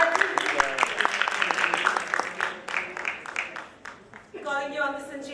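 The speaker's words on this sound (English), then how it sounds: "Let's give Sanjeev a warm round of applause." Applause from a conference hall audience rises as a guest is welcomed onto the stage. Steady clapping continues under a presenter's amplified voice, then thins out toward the end.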